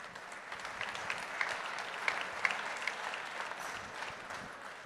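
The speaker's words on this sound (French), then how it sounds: "Et bravo, je crois qu'on peut les applaudir." A crowd claps for industry teams at a French business talk: dense, sustained applause at moderate level, with a few sharper individual claps standing out above the wash.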